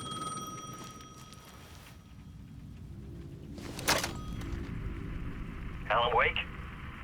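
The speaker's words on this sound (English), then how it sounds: "The payphone was ringing again." A payphone rings in the dark Alan Wake 2 game world: a short, warbling electronic ring bursts out near the end over a low, rumbling ambient drone, after a sharper crackling noise.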